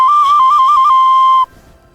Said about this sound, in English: I carved a little training whistle for the alpacas.